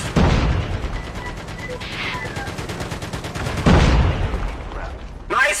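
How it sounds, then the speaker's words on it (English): Rocket launchers and other weapons fire in a video game, heard as loud bursts and rapid repeated shots with sharp blasts near the start and again near the end, with excited voices over the action. "Go! Fire your rocket launchers!"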